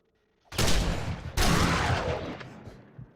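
Two heavy shotgun blasts in the video game 7 Days to Die, loud and close, each a sharp boom with a long fading tail. The second follows about a second after the first, with no talking.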